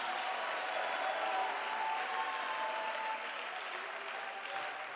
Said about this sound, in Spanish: Dele un fuerte aplauso al Señor y de un clamor de alabanza.